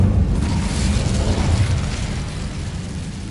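An Incendio fire spell is cast in Hogwarts Legacy, a sustained roaring, whooshing burst of flame with a low rumble, loud and steady before easing off slightly toward the end.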